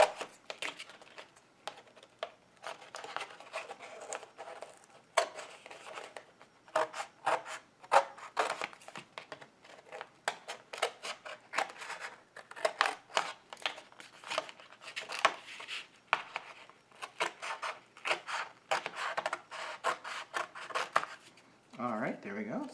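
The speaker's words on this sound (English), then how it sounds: "And now we cut out our shape." A shape is cut out of a plate in a long run of close, irregular scraping and rubbing cuts, with short rustles and snips in bursts and pauses throughout.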